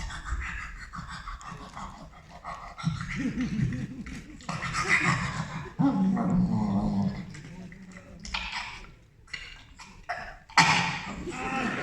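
A voice imitates a dog hacking and coughing up a fur ball, a run of rasping coughs, growly retches and panting at close range before a comic-con panel audience.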